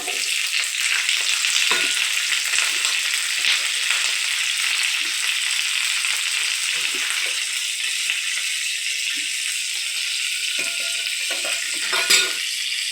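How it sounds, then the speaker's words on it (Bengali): Capsicum and onion fry in oil in a frying pan, a continuous close crackling sizzle with occasional scraping knocks of a spatula, one louder clack near the end. "ক্যাপসিকাম আর পেঁয়াজটা দিয়ে দিলাম।"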